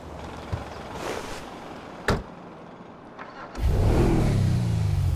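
A car in GTA V revs its engine: a few faint bumps and a sharp door-like thump early, then a loud, sustained rev rising and settling near the end, close and without talk.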